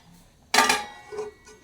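A lid set down onto a cooking pot of soybean curry on the stove gives one sharp metallic clank, then a short ringing decay and a faint second rattle, with no talking.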